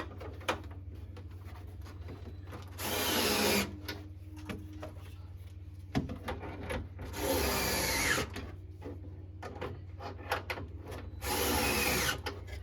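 A power driver sends short screws into a wooden arcade cabinet being restored, three loud whirring bursts of a few seconds each separated by quieter handling clicks and knocks, with no talk.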